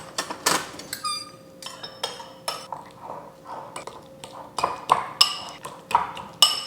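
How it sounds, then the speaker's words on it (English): A fork mashes refried beans and salsa in a bowl, giving repeated clinks and scraping taps against the dish at an uneven rhythm, close by and fairly quiet. "So we'll mix these together, mash them together with a fork."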